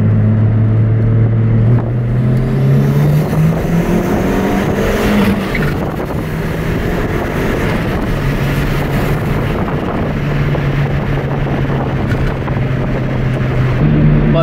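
A Fiat Punto 1.1 turbo running 0.8 bar of boost roars at full throttle on a dyno. The loud, close engine drone climbs in pitch through the rev range, eases off briefly, then holds steady with heavy wind-like rush.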